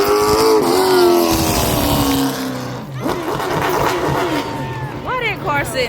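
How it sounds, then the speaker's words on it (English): NASCAR race cars roar past one after another at a track, loud engine drones rising and falling with Doppler sweeps, while crowd noise and voices sit underneath. "It was just a NASCAR race."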